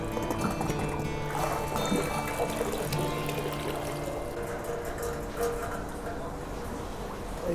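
Water swills and sloshes inside a freshly chromed fuel tank from an 86-year-old BSA Empire Star motorcycle, rinsed after chrome neutralising, a steady close pouring and trickling wash that runs without pause.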